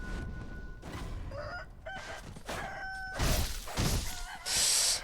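Chicken clucking and squawking in the video game Sekiro, several short fowl calls over game noise, ending in a loud harsh burst.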